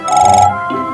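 A phone-like signal rings in the video game Nexomon, a loud, buzzy, trilling electronic tone lasting about half a second, followed by a softer lower tone, with no talk over it.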